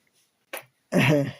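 A single sneeze, close and fairly loud, preceded by a short sharp intake of breath.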